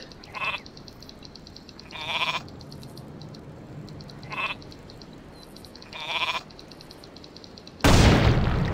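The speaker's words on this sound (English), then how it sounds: "Hey, a sheep!" Sheep in the Warcraft III video game bleat four times in short, evenly spaced calls over a steady game-sound bed, followed by a sudden loud burst at the end.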